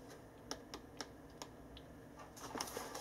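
Clicks from keys on a Gigabyte Force K7 keyboard, used to toggle the backlighting: about six or seven sharp, separate taps at irregular intervals, close and moderately quiet, with a small cluster near the end.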